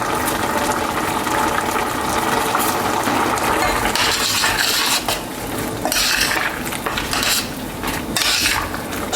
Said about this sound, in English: Let's add a little bit of ground pepper.